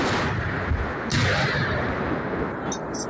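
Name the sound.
continuous gunfire and bombing in war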